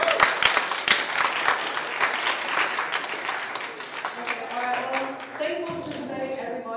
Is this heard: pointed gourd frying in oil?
no